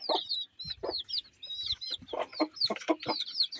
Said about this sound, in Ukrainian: А тут ось теж одні півні.